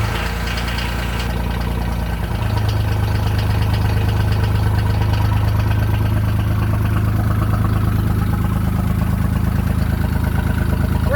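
Ford Ranger engine idling after a cold start, a loud, steady low rumble that shifts to a slightly smoother, higher idle early on and then holds evenly.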